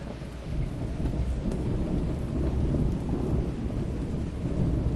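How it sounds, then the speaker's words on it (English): A night thunderstorm with heavy rain pours steadily, with a deep continuous rumble of thunder underneath; loud and sustained with no talking. "It's terribly stormy tonight."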